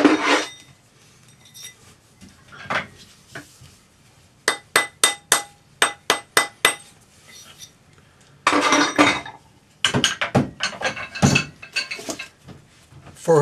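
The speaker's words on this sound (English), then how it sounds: "put it on your ring mandrel, round it up with a rawhide hammer" A rawhide hammer rounds a forged metal ring on a steel ring mandrel. Bursts of sharp, ringing metallic taps arrive in quick, evenly spaced strikes, loud and close, broken by short pauses.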